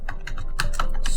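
Quick run of keystrokes on a computer keyboard while entering customer details into sales software, close and crisp, about a dozen clicks in rapid, uneven rhythm with no talking.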